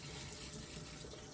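Steady stream of tap water running into a sink, continuous and fairly close, with no speech over it.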